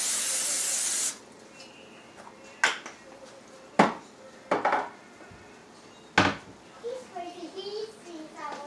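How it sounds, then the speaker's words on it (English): A steady hiss of cooking spray into a disposable pan lasts about a second, followed by scattered clanks and rustles of the pan being handled, with faint voices. "go ahead and spray it so she doesn't stick too bad"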